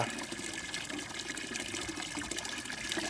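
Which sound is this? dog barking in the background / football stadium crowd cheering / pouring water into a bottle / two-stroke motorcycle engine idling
pouring water into a bottle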